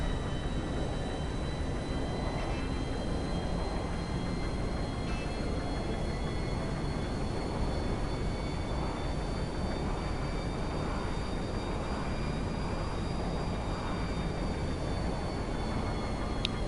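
A video-game airplane makes a steady, loud, even drone as it flies in to land at Los Santos Airport. The sound holds unbroken for the whole stretch, with no talk over it.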